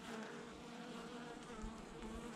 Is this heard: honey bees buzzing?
yes